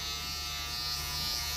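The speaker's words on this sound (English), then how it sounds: "you can always come back around with a clipper" An electric hair clipper buzzes steadily and close up while shaping a stacked bob haircut, a continuous even drone with no talking.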